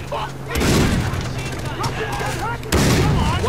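Loud gunfire in a Far Cry 3 co-op campaign, with two heavy booming shots that stand out, each followed by a rumbling tail over continuous battle noise, close and dense.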